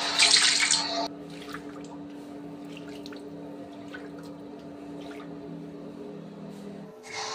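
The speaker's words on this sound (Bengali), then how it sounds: "এখানে একটু জলটা ঢেলে দিলাম, জল দিয়ে চলে গেল পাইপ দিয়ে" A short splash of water poured onto a swept floor at home, running off through a drain pipe, loud for about a second and then fading into a low steady hum.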